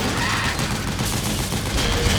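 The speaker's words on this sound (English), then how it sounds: "an APC with a fucking machine gun with an old man shooting it" Sustained machine gun fire from an APC's mounted gun in Metal Gear Solid 4, a dense, continuous rattle of rapid shots running loud and steady the whole time.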